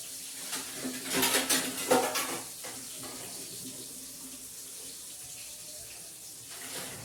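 Running tap water with clattering dishes, louder bursts early on, then a steadier softer flow of water continuing to the end.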